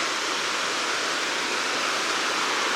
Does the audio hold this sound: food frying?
no